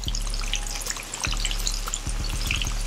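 Chicken wings fry in a pan with a loud, steady sizzle and crackle close by, scattered pops throughout and no talking.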